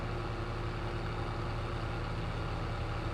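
An old tractor engine idles in Farming Simulator 22, a steady low rumbling drone that holds at an even level throughout, with no voices.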